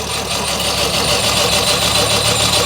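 A 1924 Austin Seven's small four-cylinder engine runs close and loud, a steady, busy idle with an even mechanical clatter throughout.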